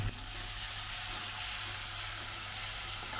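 Ground cumin, coriander and dried chili pastes with ginger and garlic sizzle in a frying pan for a Bengali brinjal and fish head dish, a close, steady hiss and crackle with no talking.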